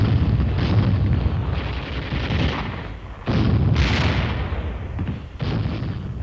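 Heavy artillery pounds the Iwo Jima beachhead in a dense, continuous barrage of booming blasts, with several sharp fresh explosions rising over the rumbling roar.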